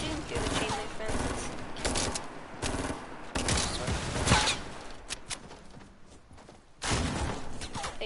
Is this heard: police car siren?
no